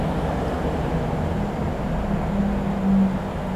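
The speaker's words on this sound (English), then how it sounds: "And a bus just went past." A bus passes nearby on a street outside a house, a steady low rumble that swells slightly toward the end, with no talking.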